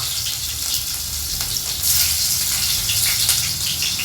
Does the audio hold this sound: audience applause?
no